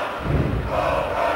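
A wrestling arena crowd in the WWF Attitude video game roars and cheers in a sustained, fairly loud wash of voices lasting throughout, with no clear individual words.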